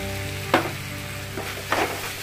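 Tomatoes and turmeric sizzling in a hot pan for a Kerala-style chicken curry, a steady frying hiss broken by two brief stirring scrapes, close and with no voices.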